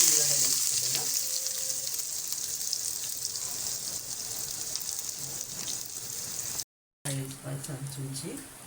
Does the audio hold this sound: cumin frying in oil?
yes